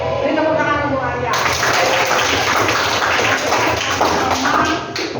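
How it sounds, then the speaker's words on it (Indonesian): Students in a classroom clap for a classmate who answered a religion lesson question, a dense, steady burst of hand claps that swells after the first second and runs loud throughout, with scattered voices mixed in. "Ini tepuk tangan untuk Arya"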